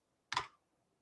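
A single soft keystroke on a computer keyboard, one faint, brief click in a quiet room.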